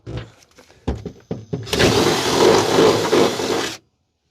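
A power drill grinds steadily through a fiberglass body for about two seconds, loud and close, after a few sharp knocks and taps.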